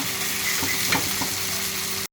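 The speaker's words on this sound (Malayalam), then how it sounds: "തക്കാളിയും ഉള്ളിയും നല്ലതുപോലെ വഴണ്ടു." Tomatoes and onions sauté in a hot pan for a tiger prawn roast, giving a steady, close sizzle with faint stirring scrapes and no talk.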